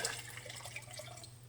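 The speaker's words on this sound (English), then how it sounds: "And then I'm going to add the water" Water is poured into a jar packed with kosher dill pickles to make brine, a quiet, close trickle with soft drips over low room hum.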